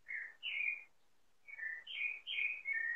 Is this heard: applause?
no